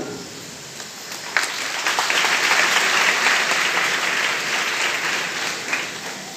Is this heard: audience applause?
yes